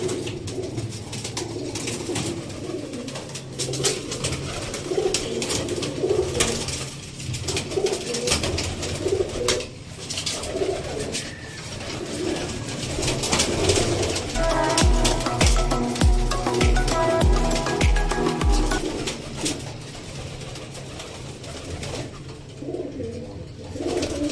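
Several newly arrived pigeons coo in soft, rolling bursts inside a coop, with low background rumble and a brief run of rhythmic low thumps partway through.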